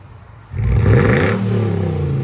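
A straight-piped 2005 Lexus GX 470 with its 4.7L V8 revs sharply. The loud rising exhaust roar starts after a brief idle and then settles into a sustained rumbling drone, heard close up.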